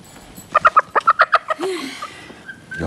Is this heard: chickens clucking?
yes